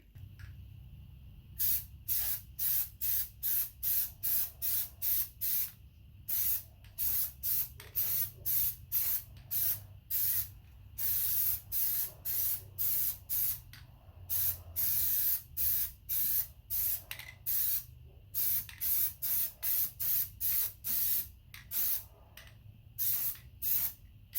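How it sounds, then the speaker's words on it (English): An aerosol can of Plasti Dip rubber coating sprays onto 17-inch Jeep Wrangler wheels in rapid repeated bursts, dozens of short hissing pulses with brief gaps, close and steady over a low background hum. "let me go ahead and start spraying it"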